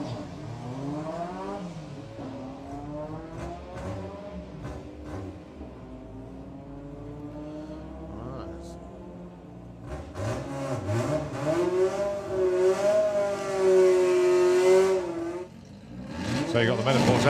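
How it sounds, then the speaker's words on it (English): Two turbocharged VW Beetles drag racing at a Bug Jam event, their engines droning and revving loudly under continuous talk from a commentator, with the roar swelling and rising in pitch toward the end. "Here's currently 2 turbocharged Beetles."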